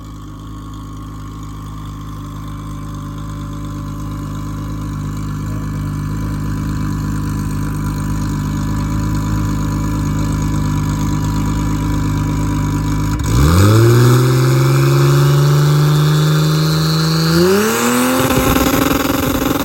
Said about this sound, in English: That's better burnout.